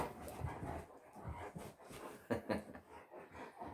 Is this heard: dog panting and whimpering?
yes